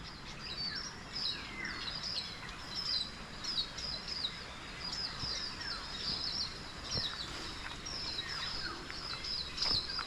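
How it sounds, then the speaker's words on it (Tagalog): Many birds chirp and trill in a lanzones orchard, their short high calls repeating steadily over a low background hiss, none of them very close. "Ang saya ng mga ibon"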